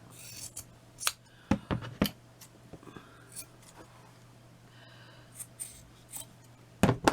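Scissors snipping through craft covering material on a wall plaque, several sharp close cuts in two clusters with quiet rustling and handling between them.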